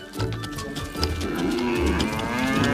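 Cattle moo repeatedly in low, drawn-out calls, several animals close by grazing near a forest, over a steady outdoor background.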